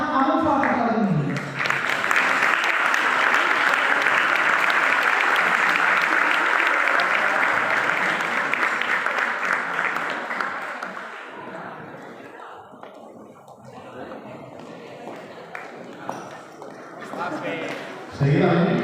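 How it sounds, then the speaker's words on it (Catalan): Loud audience applause at a sponsors' dinner for a Fallas association in Almería, a sustained dense clapping that gradually thins and fades, with a few voices and a burst of noise at the end. "Despedim als nostres representants dels grups de govern amb un fort aplaudiment."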